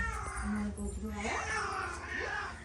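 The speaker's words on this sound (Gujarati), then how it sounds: "તમારો બિલાડો દૂધ પીવા આવ્યો" A cat that has come to drink milk meows in a home, several drawn-out calls rising and falling over about three seconds, close and fairly loud amid household background noise.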